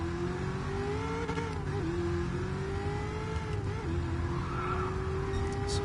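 A race car engine in Gran Turismo Sport holds a steady high whine close to its rev limiter near 7,000 rpm, pitch wavering slightly with faint tire squeal mixed in throughout.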